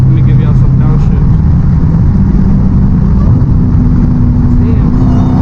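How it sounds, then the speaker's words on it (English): A supercharged Dodge Hellcat engine roars steady and loud from inside the car, with deep rumbling revs during downshifts, while someone talks over it. "Supercharger sounds crazy, bro. Let me give y'all some downshifts."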